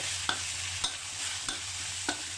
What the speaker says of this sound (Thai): ใส่ใบมะกรูดลงไป ผัดพอเข้ากัน